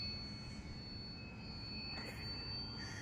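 A model Cub airplane on its maiden flight drones steadily overhead, a continuous engine hum with a faint high whine, holding an even level for the whole stretch.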